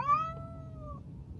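A cat gives a single drawn-out meow from inside a car, clear and close, followed by a quiet low rumble with no talking.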